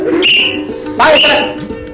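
A person whistles a tune in two clear melodic bursts, bright and close, with sliding pitches and a short gap between phrases, against a faint background.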